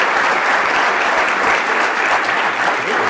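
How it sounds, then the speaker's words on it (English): Loud, continuous applause from a meeting audience thanking panelists, a thick, steady roar of many hands clapping at once with no pauses and no talk on top. "let's thank our panelists with a round of applause"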